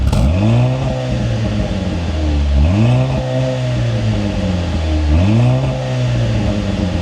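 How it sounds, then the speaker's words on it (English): A hand-built 2-liter electrically turbocharged four-cylinder engine of a Mercedes C43 AMG revs up loudly three times in a row, each rev rising and falling in pitch, close and with no voices. "What you just heard was this hand-built 2-liter electrically turbocharged 4-cylinder"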